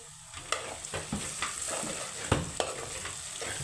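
Onions browning in a hot pan for an everyday summer home meal, a steady close sizzle with scattered sharp clicks and scrapes of stirring throughout.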